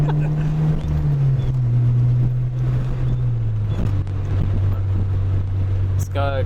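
A naturally aspirated Fiat Punto HGT engine revs toward 5000 rpm, a steady, loud, close drone from inside the car that rises and then eases back, with people talking over it.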